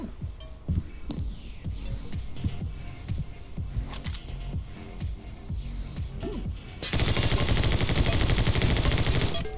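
Rapid bursts of gunfire in the video game My Friend Pedro with sharp cracks, building into a loud, dense stream of automatic shots near the end.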